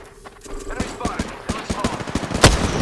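Rapid automatic gunfire in the video game Apex Legends, a fast run of sharp shots building to a louder burst near the end, with faint voices underneath.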